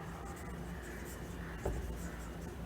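Marker or chalk strokes on a board during a chemistry lecture, a soft scratchy scribble running throughout with one firmer tap partway through, faint and with no voice.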